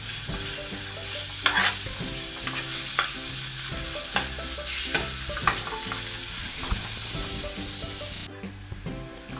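Pre-cut chicken fries in cooking oil in a pan, a steady close sizzle broken by clinks and scrapes as it is stirred, no talk.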